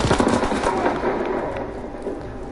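A rapid-firing gun in the video game WW2 Zombie Nazis rattles off a loud, continuous stream of closely spaced shots that carries through the whole moment.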